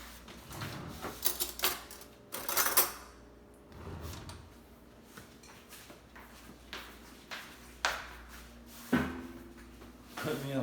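A kitchen drawer being pulled open and pushed shut while fetching soup spoons, with several sharp wooden knocks and clatters close by amid busy kitchen noise and occasional background voices.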